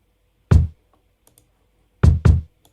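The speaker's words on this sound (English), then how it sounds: "I layered these two kicks, because the first one wasn't hitting hard enough" Two kick drum samples layered together in FL Studio give one fat, hard-hitting kick for a hip-hop beat. It sounds once, then twice close together, with faint clicks in the quiet gaps.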